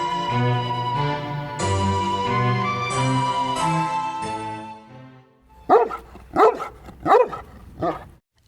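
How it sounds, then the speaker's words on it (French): After soft sustained music fades, a dog gives four sharp, close barks in a quick, evenly spaced series. "L'aboiement sec du chien m'a fait sursauter."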